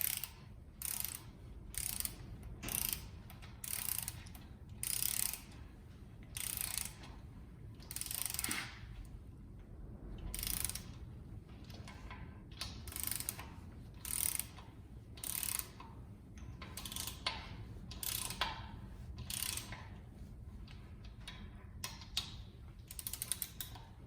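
Ratchet wrench snugging down bolts on a 1962 Slant Six 225 engine during crank and piston assembly, a steady series of close, loud clicking bursts in short repeated strokes with brief pauses between, no talking.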